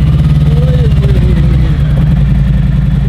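A Harley-Davidson Fat Bob motorcycle's engine turns over and settles into a loud, close, deep rumbling idle with a throbbing low-end pulse.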